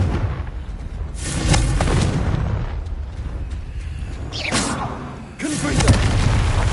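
Fiery Confringo blasting-spell explosions in a Harry Potter video game, a sustained roaring boom with rumbling low end, then a brief dip and a second loud blast, close and dense.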